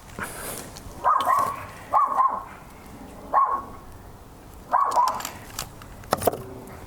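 An anxious dog barks indoors: four short bursts of barking spaced about a second apart, loud and close, with a brief sharp tone near the end.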